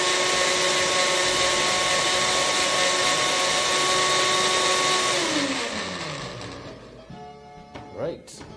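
A blender runs with liquid swirling inside to clean it after making tomato soup, a loud continuous whir that winds down as the motor slows and stops, leaving faint clinks afterward.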